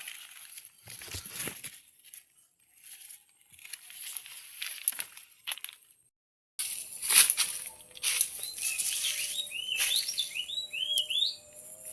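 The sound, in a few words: birds chirping outdoors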